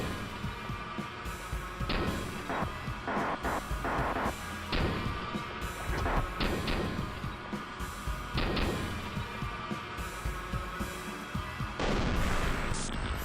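Gunfire in an indie video game as the player shoots a downed enemy: a series of sharp, booming shots in irregular bursts over a steady rumbling game soundtrack, with no talking.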